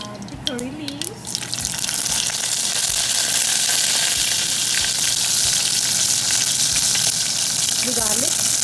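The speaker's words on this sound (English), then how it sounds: "Start to sizzle. Add the curry leaves." Mustard seeds and curry leaves sizzle in about two tablespoons of hot oil in a pan, a loud, steady crackling fry that builds after the first second and holds to the end, with brief vocal sounds near the start and finish.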